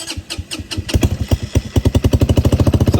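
An XRX 300 engine running loud and close, its uneven pulsing beats settling into a fast, steady, rough idle that needs adjustment.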